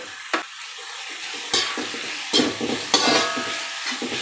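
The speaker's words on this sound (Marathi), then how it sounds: "हे आपल्याला सगळं फुल गॅसवरच परतवायचं आहे मोठ्या गॅसवरच परतवायचं आहे" Cabbage and other vegetables for veg hakka noodles are stir-fried on a high flame, a steady loud sizzle broken by sharp scraping strokes of the spatula in the pan at irregular intervals.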